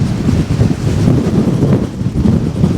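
Strong storm wind at the shore while bass fishing, a loud continuous rumbling buffet across the microphone with no voices.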